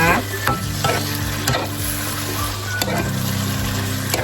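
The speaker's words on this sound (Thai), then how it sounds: "ใส่พริกหยวกลงไปผัดนะคะ" Bell peppers are stir-fried in a hot pan for a Thai chicken stir-fry with roasted chili paste, giving a steady, close sizzle. Repeated scraping strokes of a spatula are heard, with no talk.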